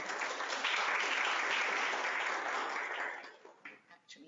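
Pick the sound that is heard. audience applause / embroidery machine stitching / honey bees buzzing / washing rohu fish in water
audience applause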